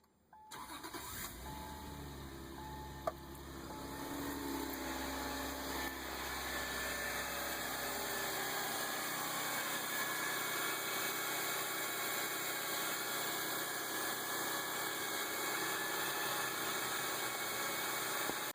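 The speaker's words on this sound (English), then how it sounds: "there's the new radiator, it running with the blown head gasket" A Subaru Outback engine with a blown head gasket and 300,000 miles cranks and starts, then settles into a steady, rough idle that runs continuously with a constant mechanical drone.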